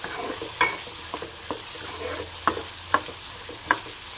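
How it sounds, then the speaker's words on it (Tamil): Potatoes fry in oil in a pan with salt and turmeric, giving a soft, steady sizzle broken by scattered scrapes and taps of a spoon stirring them, recorded close and alone. "இந்த ஆயிலே உருளைக்கிழங்கு ஒரு 2 நிமிஷம் ஃப்ரை ஆகட்டும்."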